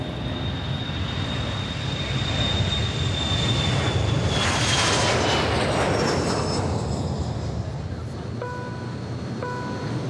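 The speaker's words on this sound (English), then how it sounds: "it's got CFM 56 engines on it" Jet airliner fitted with CFM56 engines, a steady broadband roar that swells loudly past midway, with a fading high whine and a few faint tonal chimes near the end.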